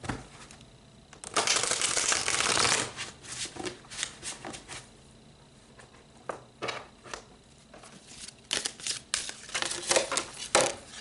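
Tarot cards being shuffled close up, a dense riffling burst followed by repeated shorter card slaps and rustles, with no talking.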